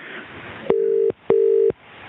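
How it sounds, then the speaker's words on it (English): Two long electronic telephone ring tones sound in succession, each about half a second, separated by a brief pause, over a faint line hiss. "Do you hear that ringing?"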